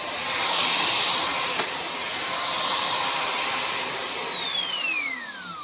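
A Hoover ONEPWR Blade Pet cordless vacuum running over a brand-new hand-hooked rug, giving a steady loud whooshing whine that winds down with a falling pitch as the motor shuts off.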